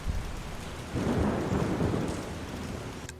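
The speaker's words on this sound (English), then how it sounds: "There's actual thunder, that's kinda cool." Rolling thunder in the video game Game Dev Studio, a broad low rumble swelling after about a second and holding steady over a wash of rain-like hiss, fairly loud and close, with no voices.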